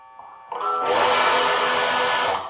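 An electric guitar chord, an Epiphone Electar-10 played through a Metal Zone distortion pedal, strummed once and left ringing, thick and fuzzy, played alone at moderate volume.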